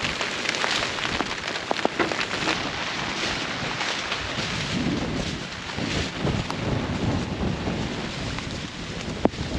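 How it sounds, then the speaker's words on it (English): Heavy summer rain falls on a cucumber farm mid-harvest during a major storm, a dense, steady hiss with wind buffeting the microphone throughout and no voices. "then it really started raining"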